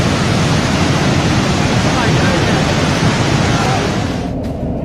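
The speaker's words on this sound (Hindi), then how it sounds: "वीडियो में दिख रहा है कि नदी का पानी पूरे वेग से बह रहा है।" River water rushes at full force after a cofferdam breach during heavy monsoon rain, a loud, continuous roaring torrent close by with no breaks, dense and steady throughout.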